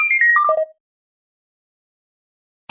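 Phone ringtone from an incoming client call: a quick descending run of bright electronic tones lasting under a second, loud and clear, then silence.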